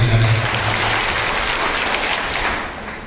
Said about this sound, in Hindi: इनके लिए जोरदार तालियां हम सबसे पहले बजाएं।